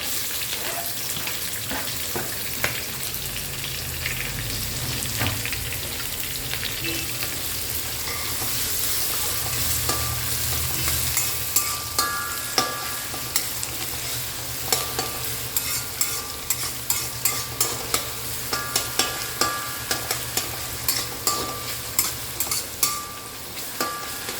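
Green chillies and onion fry in a pan with a steady hiss and sizzle, joined later by rapid scraping and tapping of a spoon stirring against the pan, close up and without speech.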